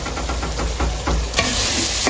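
Minced meat (keema) being fried for kachori filling, a steady close sizzle with scraping stir strokes in a rhythmic pattern, brightening into a louder hiss near the end, no talk.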